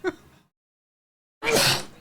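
A single close, forceful sneeze bursts out after a brief silence, with a little voice sound just before it.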